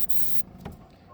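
Rechrome paint sprayed from a can onto a car's front bumper, a loud steady hiss lasting under half a second, then a quiet pause and a brief softer puff.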